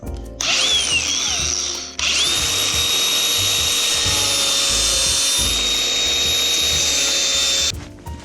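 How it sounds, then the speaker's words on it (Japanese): A power tool cuts through a plumbing pipe riser on a farm build, running in a loud, steady whine for several seconds after a brief first burst, close by, with no voices. "配管の立ち上がりちょっと長いんで切ってきます。"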